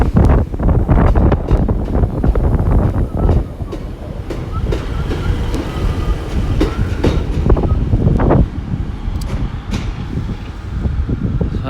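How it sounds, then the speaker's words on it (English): A Paignton-bound train pulls out of Exeter St David's station on a quiet Sunday afternoon, loud and close with rumbling wheels, clickety-clack over the rail joints and gusts of wind noise on the microphone. "As that Paynton train goes out"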